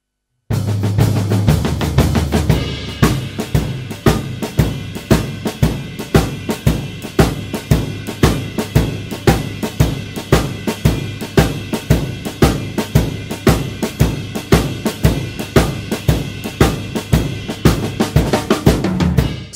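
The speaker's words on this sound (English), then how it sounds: "a Chicago shuffle where the shuffle is in the hands and you have four on the floor" A drum kit plays a loud, steady Chicago shuffle with a four-on-the-floor kick and swung hi-hat strokes on every beat, a close, driving groove that runs unbroken for about twenty seconds after a brief opening fill.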